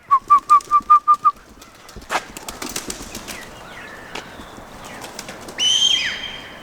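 Pigeons released to fly outdoors, a burst of wing flapping and fluttering near the end after a short run of clear whistle-like pips at the start, with faint scattered background sounds between.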